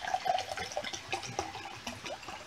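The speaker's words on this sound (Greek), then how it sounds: "ας δοκιμάσουμε να γεμίσουμε το ποτήρι μας με κρύο νερό" Cold water pours from a bottle into a glass, a close, gurgling splash that bubbles in uneven bursts for a couple of seconds.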